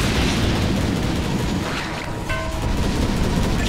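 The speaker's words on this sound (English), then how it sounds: "Dire's bottom tower has fallen." A tower collapsing in Dota 2 lets out a loud, booming explosion, a rumbling blast that fills the whole moment, with no talk over it.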